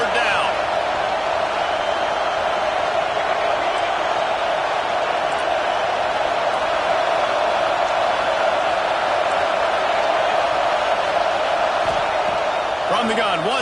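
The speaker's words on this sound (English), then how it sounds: "Decibels rising as the crowd gets behind this defense on third down." A packed stadium crowd cheers for the defense on third down during an Oregon vs LSU football game, a loud, dense roar that holds steady the whole time.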